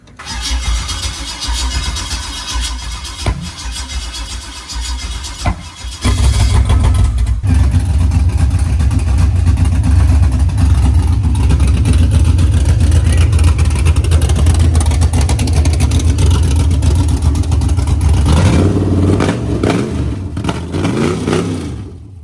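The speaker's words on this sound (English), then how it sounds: "we've officially fired the car up" An LS-swapped G-body car cranks and fires for the first time, the engine catching with a loud burst and then running at a rough, steady idle near the microphone, settling and revving slightly toward the end.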